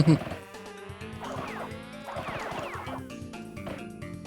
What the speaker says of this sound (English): Those bees are definitely a problem once you